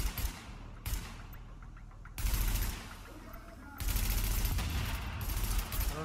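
Bursts of automatic gunfire in the tactical shooter The Division, with a short volley, a pause, then longer sustained firing that runs loud to the end.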